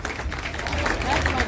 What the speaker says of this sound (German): einen doppelt so lauten Applaus